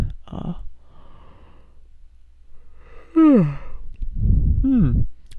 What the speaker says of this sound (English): that huge long yawn